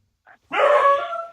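A dog barks outdoors: one short yip, then a long, loud, sustained bark-howl close by, with no talk over it.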